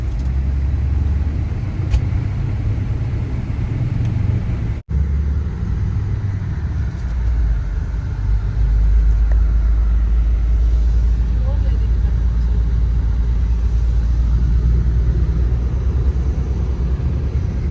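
A bus engine rumbles low and steady during a road journey, heard from inside with road noise, briefly interrupted by a sharp knock, then a deeper, heavier drone.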